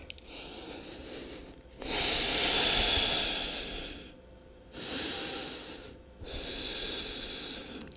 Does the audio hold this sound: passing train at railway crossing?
no